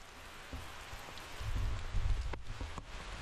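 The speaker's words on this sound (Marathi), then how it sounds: "खूपच पाऊस आहे." Heavy monsoon rain pours steadily on a hillside trail near waterfalls in Kolhapur, a dense hiss of drops that swells louder toward the middle and continues without voices.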